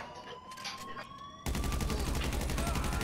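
Rapid bursts of automatic gunfire from Grand Theft Auto V Online, continuous and loud, jumping to a denser, heavier barrage halfway through.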